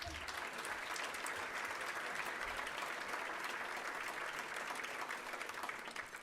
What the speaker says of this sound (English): I think we owe them a round of applause